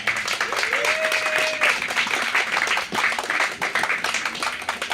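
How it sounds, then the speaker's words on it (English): Audience applause at a Bettakultcha talk session at Beacons Festival 2014, greeting a presenter: a dense, steady wash of many hands clapping close by, with a brief whistle rising over it early on. "So I want to give you a huge round of applause please for Ellie Snare."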